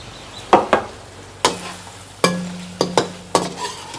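Beef frying in oil for beef yakhni pulao, a low sizzle under sharp scraping knocks of a spoon against the pot as the meat is stirred, seven or so irregular strikes, close and with no talk.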